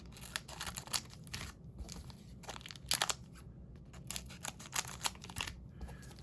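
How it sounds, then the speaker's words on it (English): Scissors snip the tops off Edge of Eternities collector booster card packs, giving a quick run of close, crisp cuts mixed with crinkling foil wrappers, with no talking. "I'm just going to cut the tops right from the beginning. In fact, I'll cut them all."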